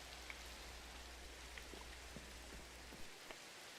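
Rain patters down in Minecraft, a quiet broadband shower with scattered individual drop ticks, steady and low in level throughout, with nobody speaking.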